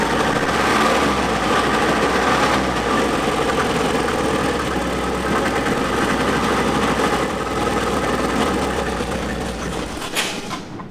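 A BMW E30 M3 engine runs rough, a dense continuous drone with an uneven, unsteady idle that holds loud and close for about ten seconds, then fades near the end. No one speaks.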